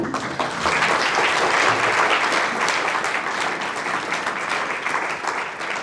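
An audience at a scientific debate on the covid crisis applauds steadily, a dense continuous patter of clapping hands that holds at an even level throughout with no talking.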